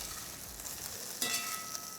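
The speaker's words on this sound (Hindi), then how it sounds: "हमें भिंडी को पकाते पकाते ना करीबन 12-13 मिनट हुए।" Okra fries in a hot pan, a dense steady sizzle and crackle with a brief louder burst of spitting midway, no voices.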